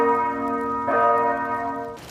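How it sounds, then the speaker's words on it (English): Bells ringing out over King's Landing in Game of Thrones, sustained resonant tones swelling with a fresh strike near the middle and fading toward the end. "Why are they ringing the bells?"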